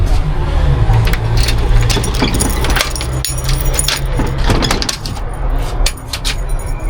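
Close metallic jangling and clinking of keys, with scattered rattles and knocks over a low background hum.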